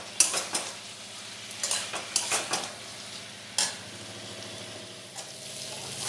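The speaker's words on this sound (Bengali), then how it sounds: "দিয়ে এই পটল আর আলুটা পেঁয়াজের সাথে খুব ভালোভাবে ভেজে নেব।" Pointed gourd and potato fry with onion and turmeric in a pan, with repeated scraping stirs and metal utensil clinks over a steady low sizzle, close and fairly loud, no talking.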